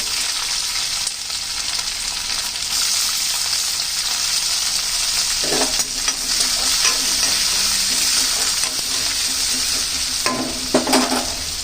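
Curry leaves, onion and green chilli hit hot oil with peanuts for churumuri, giving a steady loud sizzle throughout, with a few sharper crackling bursts as the ingredients go in and are stirred.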